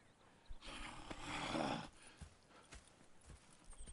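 Horse hoofbeats in Red Dead Redemption II clip-clop at a steady walking pace, with a louder rushing burst in the middle and quieter footfalls continuing afterward.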